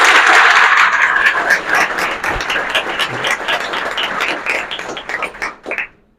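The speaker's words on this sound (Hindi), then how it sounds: "तालियों की गड़गड़ाहट होनी चाहिए यार" Loud audience applause at an Indian gathering celebrating a man selected as an income tax officer: dense clapping from many hands holds steady for several seconds, then thins into scattered claps and stops abruptly.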